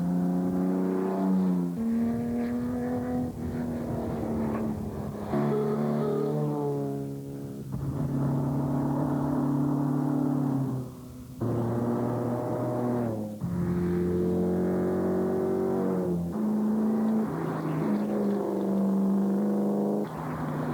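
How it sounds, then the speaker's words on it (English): Classic race cars, including a replica D-Type Jaguar, drive hard on the tarmac stages of New Zealand's Targa 2000 rally. A loud, continuous engine roar holds steady pitches between abrupt shifts, with brief dips as the revs change. "And motoring journalist Adrian Blackburn giving his replica D-Type Jaguar a rare outing"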